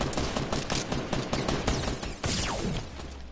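Rapid video game gunfire, loud and close, a dense stream of overlapping shots and impacts striking the player with no pauses.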